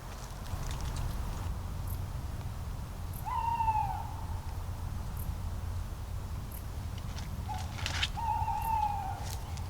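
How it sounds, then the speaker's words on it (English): Two drawn-out tawny owl hoots, one early and one near the end, at moderate distance in an ancient forest over a steady low rumble of background noise. "There was a female tawny calling."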